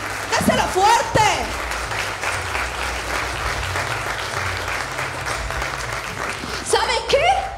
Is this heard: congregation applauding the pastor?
yes